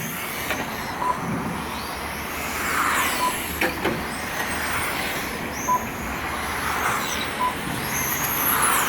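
Racing cars in a rookie-class winter touring championship round at A-Main Circuit, engines droning steadily at a distance, with passing swells and pitch sweeps as cars go by, no talk.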